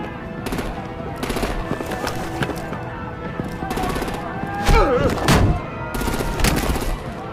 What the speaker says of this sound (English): Bring out the artillery and disable their vehicles!